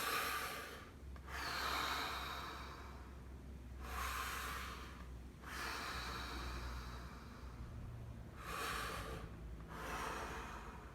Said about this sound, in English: Take a few big breaths in and a few big exhales